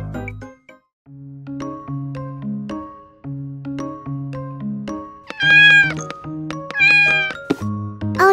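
A cat meows repeatedly in drawn-out, tonal cries over a plucked musical backing, growing louder and more strained toward the end into a caterwauling wail.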